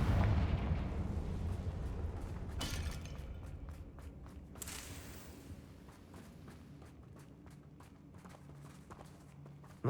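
A Confringo fire spell blast in the video game Hogwarts Legacy, a loud booming burst up front that rumbles and fades, followed by scattered sharp crackling impacts.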